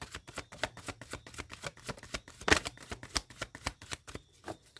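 Tarot cards are shuffled by hand in a quiet room, giving a soft, rhythmic series of papery taps and riffles. One louder, fuller riffle stands out midway, and no one speaks.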